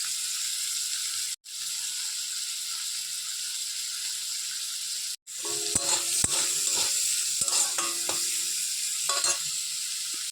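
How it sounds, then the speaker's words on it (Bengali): A steady oily sizzle of prawns frying in a pan, joined halfway through by scraping and clinking of a spatula stirring against the metal. "একটু ভালো করে ভেজে নেব মানে একটু লাল লাল হয়ে গেলেই নামিয়ে নেবো"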